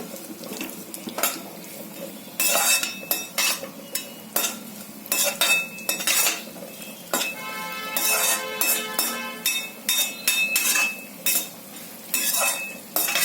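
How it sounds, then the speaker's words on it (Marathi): Vermicelli stirred and fried in hot ghee in a pan for a sweet dish, giving steady close sizzling broken by repeated scraping and clinking of a utensil against the metal. "आता हे मी ते फ्राय करून घेते आहे"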